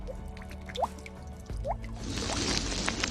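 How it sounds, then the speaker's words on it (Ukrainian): Icicles drip in a few distinct plinks, each with a rising liquid tone, then a brighter trickling wash builds toward the end. "Крапання бурульок."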